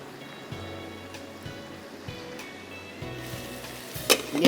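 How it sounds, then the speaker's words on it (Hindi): Ginger garlic masala sizzling in a pan after a splash of water, a hissing, bubbly wash with low knocks and thumps every second or so, ending in a brighter burst of spitting at the close, with no voices. "थोड़ा सा पानी डाल रही हूँ ताकि हमारा मसाला जले नहीं"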